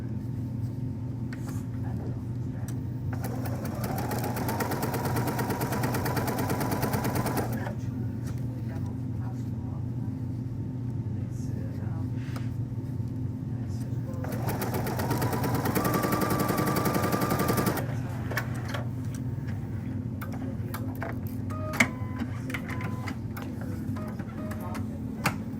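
A sewing machine stitching quilt pieces for a Lemoyne Star block runs in two rapid rattling bursts of several seconds each, close by, with a voice talking during the pauses between them.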